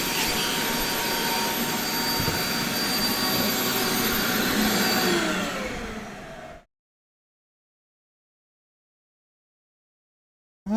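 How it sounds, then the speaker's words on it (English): A vacuum runs steadily in a woodworking shop, a loud constant whooshing roar that winds down and stops around the six-second mark, leaving silence. "Use it as a vacuum."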